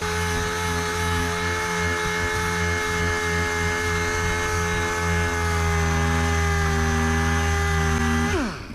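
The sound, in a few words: power sander sanding old flaking paint off 1959 Dodge Coronet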